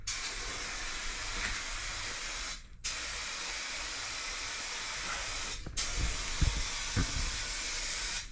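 A Rust-Oleum turbo spray can hisses steadily as coating goes onto the hood of an old wrecked car. Three long close bursts are split by two brief pauses, with a few soft knocks near the end.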